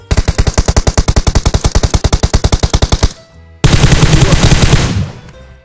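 Rapid automatic gunfire from shooting at bots in the mobile battle royale game PUBG Mobile: a fast, steady burst of loud shots lasting about three seconds, a brief pause, then a denser second burst that fades out.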